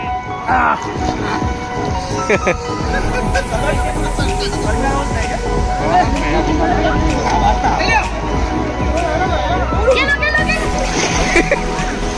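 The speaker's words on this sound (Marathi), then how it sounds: "पाणी उडू नका" Water splashing and sloshing continuously in a resort pool during a school batch reunion, with children and adults shouting and chattering loudly throughout.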